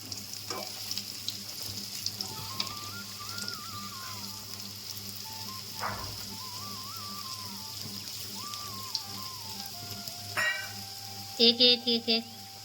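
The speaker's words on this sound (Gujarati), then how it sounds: "જો અમારા મુઠિયા એક બાજુ ચડી ગયા છે, હવે એને ઉલટાવી દઈશું." Muthiya made from bitter gourd (karela) peel fry in oil in a pan, giving a soft steady sizzle under a background melody, with a few brief scraping clatters near the end as pieces are flipped.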